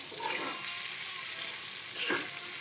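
Shrimp bhuna with tomato and coriander leaves sizzles and fries steadily in a pan, a continuous close crackle with a couple of brief stirring scrapes.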